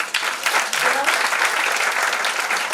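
Steady applause from a seated audience at a business seminar, dense continuous clapping filling the room at close range for the whole stretch, with no pause or break.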